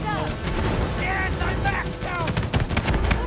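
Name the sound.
shooting in It Takes Two video game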